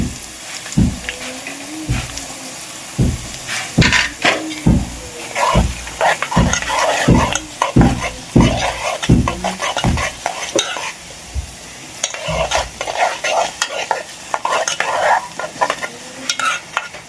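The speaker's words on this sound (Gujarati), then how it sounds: "વઘાર તૈયાર થઈ ગયું છે." Loud sizzling of a tempering of sesame seeds in hot oil for Gujarati dhokla, with repeated scraping strokes of a spoon stirring the pan in a steady rhythm, close up.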